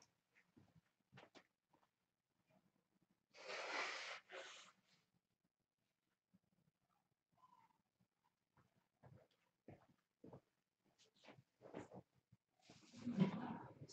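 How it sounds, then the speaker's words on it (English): A person sick with a cold blows their nose in two loud, honking bursts several seconds apart, close and alone in an otherwise quiet room with some faint rustling. "Now I'm gonna have to blow my nose."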